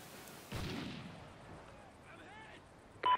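In Call of Duty: Ghosts multiplayer, a submachine gun fires a sharp blast, with quieter game sounds after it and another loud burst right at the end.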